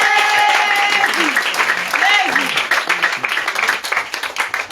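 A church congregation applauds loudly and steadily, dense clapping filling the space alongside voices and cheering, holding strong throughout before thinning slightly toward the end.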